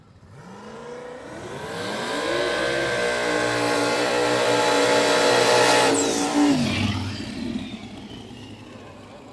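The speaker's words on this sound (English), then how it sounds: "Twin turbo LS versus single turbo LS." Twin-turbo LS and single-turbo LS no-prep drag cars launch at Mooresville, the engines revving up to a loud, swelling roar that climbs in pitch, holds, then drops away sharply as they finish the pass.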